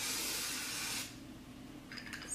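A makeup setting spray gives a steady, soft hiss lasting about a second. The hiss fades into quiet room tone, and a faint click follows.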